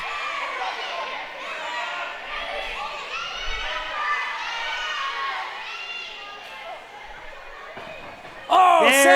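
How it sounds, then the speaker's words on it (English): A wrestling crowd shouts at Sam, with a dense mass of many excited voices, high and chattering, holding steady throughout and swelling louder at the very end. "The crowd urging Sam not to take the handshake."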